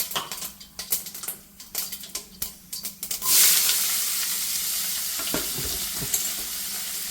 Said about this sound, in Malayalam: അപ്പം നമുക്ക് കടുക് പൊട്ടിയിട്ട് അതിനെ അങ്ങോട്ട് ഇട്ട് കൊടുത്താൽ മതി അപ്പം അവിടെ കിടന്നത് വഴ വഴണ്ടോളുമല്ലോ